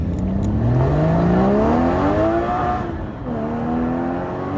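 A Porsche's normally aspirated 3.8-litre engine revs up in a rising, smooth howl, climbing steadily, easing off briefly, then pulling up again, loud and close with no talking.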